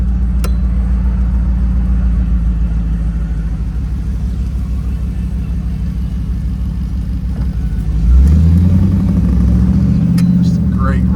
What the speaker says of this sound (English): Just a great running, strong running car.